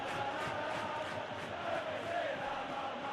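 Stadium crowd in a PES 21 football match between Inter and Roma, a steady, distant roar of murmuring and cheering with no distinct peaks, continuous throughout.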